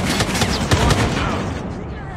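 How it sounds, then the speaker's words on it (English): Rapid strafe-run gunfire in Call of Duty Mobile on the Shipment map, a dense continuous fusillade of loud overlapping shots that stays steady for about two seconds, with a faint voice underneath. "We have called in a strafe run."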